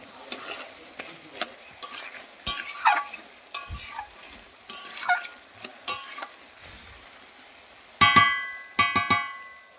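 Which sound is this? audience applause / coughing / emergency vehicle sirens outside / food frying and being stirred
food frying and being stirred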